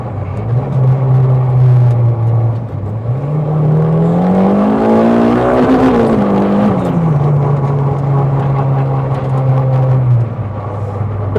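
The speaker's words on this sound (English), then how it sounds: "Will hit the limiter" A Ford Fiesta engine holds a loud, steady high rev close by, climbing briefly and falling back as it bounces off the rev limiter, with no talk over it.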